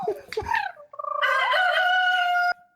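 A person imitates a chicken with a loud, close vocal clucking and crowing call, a few choppy clucks rising into a long sustained squawk that cuts off abruptly.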